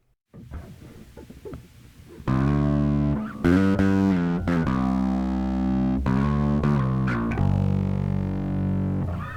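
Bass guitar with overdrive and reverb from a virtual pedalboard, sustained gritty notes ringing out and decaying into a lingering tail, played alone.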